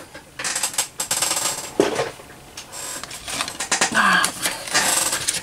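A die-cutting machine cranks a card through its rollers, giving a run of uneven clicks, ratchets and mechanical whirring at close range, with short rattling bursts and no talking.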